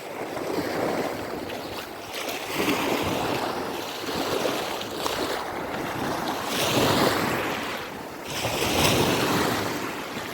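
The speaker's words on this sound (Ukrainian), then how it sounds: "Це пляж Куба." Surf breaking on a Black Sea beach in Odesa, steady roaring wash of waves with swells rising every couple of seconds, mixed with gusty wind buffeting the microphone and no voices.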